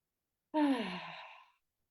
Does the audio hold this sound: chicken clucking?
no